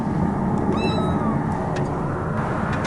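Newly adopted kittens giving a brief, faint meow over a steady loud background rumble, as if riding in a car.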